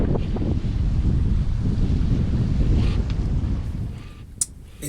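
Strong wind buffets the microphone aboard a yacht sailing at sea, a steady loud rumble and roar that eases slightly near the end.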